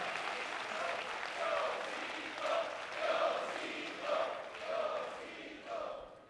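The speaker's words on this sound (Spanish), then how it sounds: "el aplauso para el tiocito" Steady, fairly faint crowd applause fills the whole stretch, with rhythmic bursts of shouting or chanting voices rising over the clapping at regular intervals.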